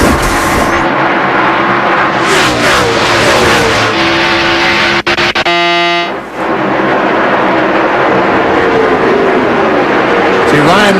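Stock car engines roar continuously at the 2002 Southern 500 NASCAR race, loud and sustained with a pass-by whine, while a commentator talks over the track noise.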